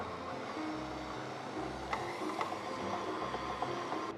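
A stand mixer runs at medium speed while kneading bread dough for chocolate buns, giving a steady, even mechanical whir with faint knocks and clicks throughout.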